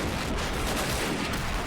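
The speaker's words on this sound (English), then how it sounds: "Got a nice little Lewis machine gun right there, look." A Lewis machine gun fires in a plastic army-men World War One trench battle game, heard as a steady, dense roar of rapid fire and battle noise with no pauses.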